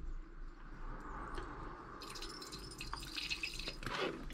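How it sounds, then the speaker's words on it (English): Liquid drips and trickles through a filter during gold recovery from dirty melts, soft close wet patters and splashes growing busier toward the end, faint and quiet overall. "So I will filter out the gold. It will really quickly filter."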